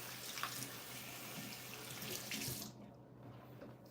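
Tap water runs steadily into a sink while a face is washed, a continuous close splashing hiss with a few small splashes, cutting off abruptly near the end to leave a quiet room.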